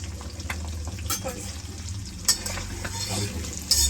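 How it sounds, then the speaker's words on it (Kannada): Spices such as chili powder and turmeric dry frying in a pan for egg curry, a soft sizzle with repeated scraping stir strokes and occasional spoon taps against the pan, heard close with no speech. "Dry fry ಮಾಡ್ಕೊಳ್ಳೋದಷ್ಟೇ."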